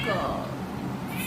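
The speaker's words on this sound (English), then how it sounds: "sorry, Leo, that's my cat" A cat gives a short meow close by, with a voice speaking faintly in the background.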